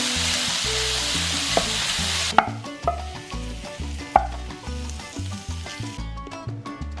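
Shrimp fry in a hot pan with a steady, close sizzle for a taco recipe. Partway through, stirring adds scraping knocks and clatter over the crackling hiss.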